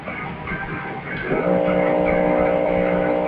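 Drag car engine revving on the line in the IHRA Drag Racing 2 video game, a building mechanical roar that jumps to a loud sustained tonal drone as the run begins, alone and close.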